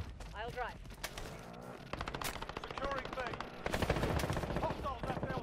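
Rapid automatic AK-47 bursts in Call of Duty Modern Warfare ring out in repeated sharp volleys, growing louder toward the end, with game effects and a voice talking underneath.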